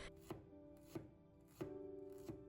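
A knife slices a peeled piece of ginger into thin pieces on a board, giving four crisp, evenly spaced chops close by over a faint steady hum.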